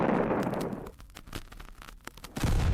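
Artillery fire around Stalingrad in 1942, opening on a heavy rumbling blast, then scattered sharp cracks and thuds, and ending in another deep booming surge, loud and close with no voices.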